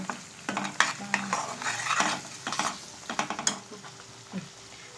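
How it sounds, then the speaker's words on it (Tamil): Oil mixture for bitter gourd pickle stirred in a pan, with repeated close scraping strokes of a spoon against the metal over a steady soft sizzle, heard alone with no talk. "இப்போ நல்லா கிளறி விட்டுடணும்."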